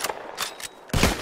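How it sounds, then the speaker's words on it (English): Revolver shots ring out in the Red Dead Redemption 2 video game during shooting practice: a few sharp cracks, then a louder blast near the end, all close and with no speech. "Just draw your gun and aim when you're ready, all right? Shoot!"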